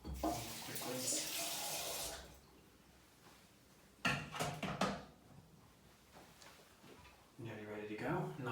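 A water tap runs in bursts to rinse a carbon part, with a strong splash at the start, a quieter gap, then several short sprays and a final stretch of running water, near and clear.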